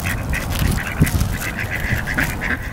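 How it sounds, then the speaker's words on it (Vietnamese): Ducks quack repeatedly at close range, a run of short raspy calls in a steady chatter with no voices over them. "Bye bye những chú vịt thân thương nhé."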